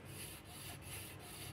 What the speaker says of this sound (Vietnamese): bạn cắt từ từ thì nó sẽ đứt cái ống ra thôi